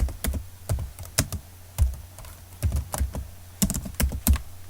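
Keys clatter in quick, uneven bursts on a computer keyboard while someone types a formula into an Excel spreadsheet. The clicks sound close and crisp over a faint low hum.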